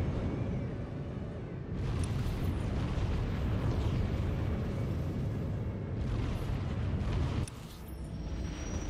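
A starfighter blows up in a Star Wars: The Old Republic space dogfight, with loud rumbling explosion blasts at about two, six and seven and a half seconds over continuous roaring engine and battle noise.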